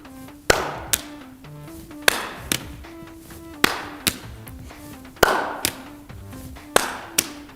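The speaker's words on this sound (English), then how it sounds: "Let's try adding a clap underneath." Hand claps between juggling throws, sharp crisp smacks that come in regular pairs about every one and a half seconds, set against a steady background of music.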